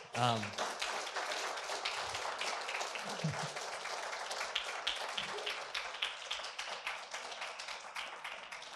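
Audience applause at a book talk, steady clapping of a modest crowd lasting several seconds, with some voices briefly mixed in.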